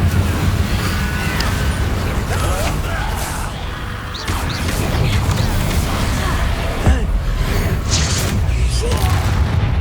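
The Incendio fire spell is cast in the middle of a Hogwarts Legacy battle, lost in a dense, loud wash of whooshes, thuds and crackling impacts that runs without a break through the whole stretch.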